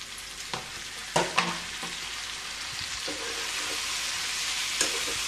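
Onion and tomato frying together in a pan for a dhaba-style aloo parwal sabzi: a loud continuous sizzle with a few sharp spatula knocks and scrapes near the start and brief stirring later.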